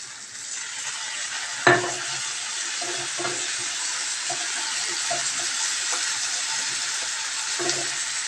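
Curry being stirred in a pan after tomato sauce goes in: a steady frying hiss and sizzle with scattered scraping stirs and one sharp clunk of the spoon against the pan early on.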